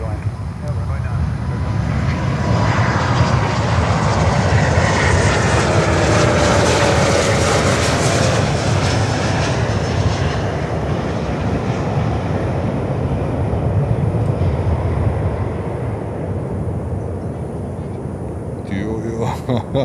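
An American Airlines jet lands on runway 9 at Miami airport, a loud, continuous engine roar swelling and then slowly fading over about twenty seconds.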